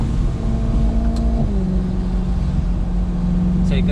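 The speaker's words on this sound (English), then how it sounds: "4-litre V8 engine in front with rear wheel drive, sending a lot of power to the rear wheels" A BMW E93 M3 with a front-mounted 4.0-litre V8 and rear-wheel drive hums steadily from inside the cabin, its engine note shifting in pitch as it drives, loud and close throughout.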